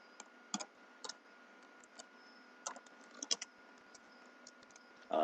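A computer mouse and keyboard being used while working in the Unity editor, producing scattered sharp clicks in small irregular clusters, close and quiet, ending in a louder burst.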